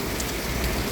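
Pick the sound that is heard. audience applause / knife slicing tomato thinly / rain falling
rain falling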